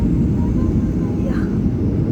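The steady, loud rumble of an airplane flying overhead, a continuous low roar that fills the whole moment.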